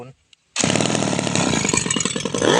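A small two-stroke grass trimmer engine starts up abruptly and runs at a steady high-pitched buzz, close and loud, with a slight rise near the end.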